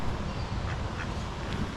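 Ducks by a canal quack in a few short, close calls over a steady outdoor background hiss.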